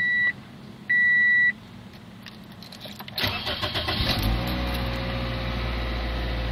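A 2005 Toyota Corolla LE gives two electronic chimes, then the starter cranks briefly and the engine catches and settles into a steady, close idle.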